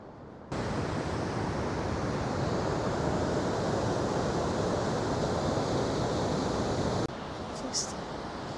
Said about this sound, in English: Probably hear the water running here, but we're about to see the big waterfall.